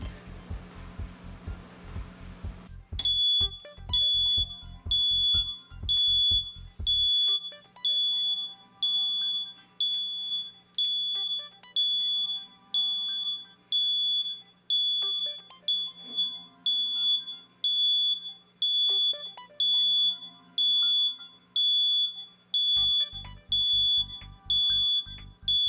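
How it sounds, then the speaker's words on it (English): An electronic timer beeps in a steady repeating pattern of sharp, high tones for about twenty seconds while a plastic geothermal pipe is held 1.25 inches on a heated fusion tool at 500 degrees, with a low hum starting and stopping around it. "This is our timer."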